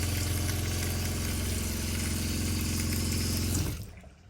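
Pink RV antifreeze flowing out of the plumbing of a Winnebago Micro Minnie 2106DS, a loud steady gushing rush with a low hum that abruptly tapers off near the end.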